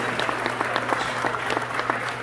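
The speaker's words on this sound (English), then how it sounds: "Let's get a cheer for the crowd, man." A crowd at an informal outdoor gathering claps in a brisk, roughly rhythmic beat, close and fairly loud, with crisp repeated hand claps carrying throughout.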